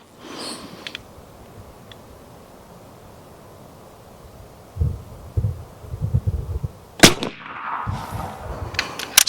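A Seneca Dragon Claw air gun firing 3D-printed sabots, with a couple of sharp, loud shots near the end, each followed by clattering mechanical handling noise, after a stretch of quiet room tone.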